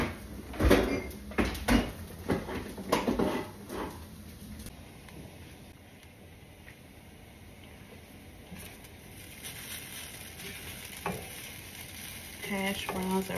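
Hash browns frying in butter in a pan, a steady soft sizzle running throughout, with louder clattering stirs and scraping near the start and a few more utensil knocks toward the end.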